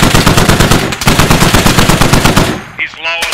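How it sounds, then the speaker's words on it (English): Rapid automatic gunfire in the military shooter game Squad, loud sustained bursts in a steady rhythm that cut off abruptly, followed by fainter clatter. "Alright, hold up, we're getting shot at."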